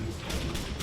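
A chain gun winds up in the superhero game DC Universe Online: a short, rattling mechanical whir and clatter, loud and close, lasting under a second.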